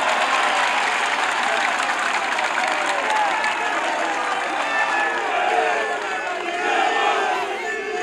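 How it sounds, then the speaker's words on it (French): A large crowd at a political gathering claps and cheers steadily in a dense, continuous roar, with scattered shouts mixed through the noise. "veuillez vous applaudir s'il vous plaît"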